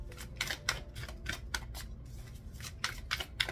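Rapid riffling and flapping of tarot cards being shuffled, in quick bursts with brief pauses, close and crisp.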